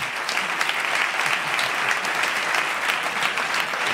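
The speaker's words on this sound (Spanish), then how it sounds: "se puede aplaudir, ¿hoy?" Steady, full applause from a studio audience at a comedy talk show, many hands clapping evenly throughout with no voice over it.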